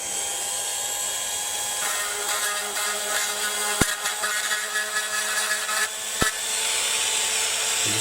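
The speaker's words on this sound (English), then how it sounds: "I find this is the easiest to get to all these little tabs inside the body and just grind them off" A Dremel rotary tool with a round milling bit grinds plastic tabs off the inside of a 1/18 scale DMC Huracan model body, a steady high whine with rough scraping bursts and two sharp clicks, close and loud.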